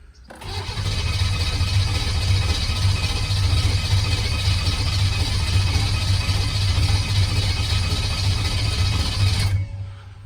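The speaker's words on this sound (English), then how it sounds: "If I can get enough cranks to maybe see some fuel go into that bucket." An engine cranks over on a long-unused battery, with a fuel line feeding into a bucket. It churns steadily and loudly for about nine seconds without catching, then stops abruptly.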